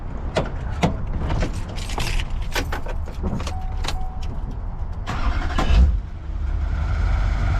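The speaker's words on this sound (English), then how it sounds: "All right, Eric, fire up your truck and light a line now." A truck engine being started during repairs after a failed DOT inspection, with clicks and rattles up front, then the engine cranking and catching into a rough rumbling idle, close and loud.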